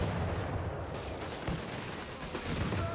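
Mortar and gunfire in a Company of Heroes 3 battle on the Eindhoven map, a dense wash of crackling shots and a few sharper blasts heard up close, with no voices.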